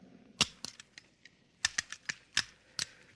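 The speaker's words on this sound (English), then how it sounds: "let's see you put back the firing pin" Small metal clicks and snaps from a pistol's firing pin being fitted back into place, a series of sharp, close mechanical taps spaced irregularly with quiet gaps between them.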